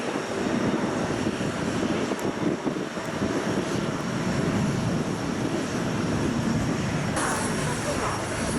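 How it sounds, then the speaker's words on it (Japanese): A loud, steady roar of an airplane engine at Haneda Airport fills the whole stretch, broadband and sustained without letup. "すぐにまた飛行機がやってきました"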